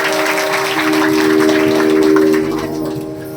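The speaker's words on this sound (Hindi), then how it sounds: "इनके लिए जोरदार तालियों का स्वागत अभिनंदन।" Loud applause from a gathered audience at a Bhagwat Katha religious gathering, welcoming an honoured guest, a steady wash of clapping mixed with a sustained musical drone and tone that fades slightly toward the end.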